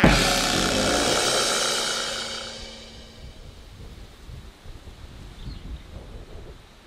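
Thunder and rain sound effect: a loud rolling thunderclap that rumbles and fades over about three seconds into softer, steady rain-like noise.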